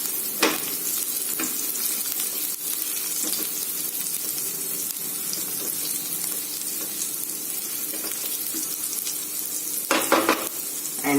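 Chili sautéing in a pan for masala cheese Maggi noodles, a steady close sizzle lasting throughout with a few sharper scraping stirs, including a louder burst near the end; no talking.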